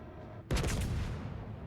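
Naval gunfire aimed at a destroyer in World of Warships: Legends: a sudden, loud, sharp report after a quiet moment, followed by a rumbling, crackling tail of shell fire, with no talking.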